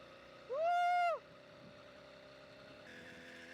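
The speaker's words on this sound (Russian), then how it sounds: "Итак, друзья, сейчас я запущу основной двигатель." A small petrol engine on a motorized bicycle, which also carries an electric motor, gives a brief loud rev that rises and falls, then settles into a steady, thin droning hum close by.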